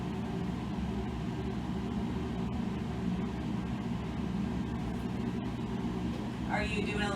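Microwave oven running while melting fudge, a steady low mechanical hum that fills the whole stretch, with people talking faintly over it.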